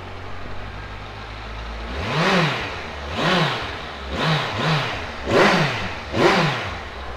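A grey 2016 Kawasaki Versys 1000 GT motorcycle with its Z1000 SX engine idles up close and then rises in five sharp throttle blips, with a quick double rev near the end, each dropping back to idle.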